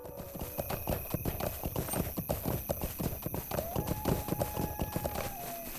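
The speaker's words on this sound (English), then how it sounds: "riding the horses all the way back to the stable is as realistic as it is time consuming" Horse hooves clip-clopping at a brisk riding pace in the fantasy game Lord of the Rings Online, a dense, continuous rhythmic clatter over soft background music, with no talk.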